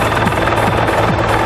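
A helicopter flies close and loud, its rotor beating in a steady rhythmic chop over a constant engine whine.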